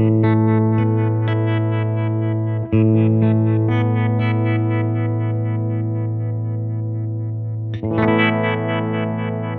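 Sustained electric guitar chords through a Menatone Harmonic Shifty Vibe pedal, with a shimmering, pulsing modulation in the highs, played alone and fairly loud, with two short breaks between strums.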